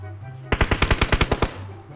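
Automatic gunfire in PUBG Mobile: a quick burst of about ten sharp shots, close and loud, over a low game background hum.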